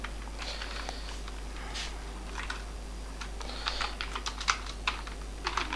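Rapid keystrokes on a computer keyboard, irregular clusters of light clicks close by and at steady volume, with no talking.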